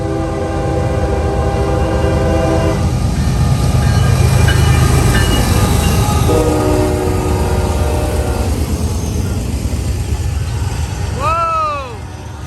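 A heavy freight train led by five diesel locomotives, including ES44DC, ES44AC and Dash 9 units, rumbles past loudly and sounds its horn in long chords, ending with a shorter bending blast near the end.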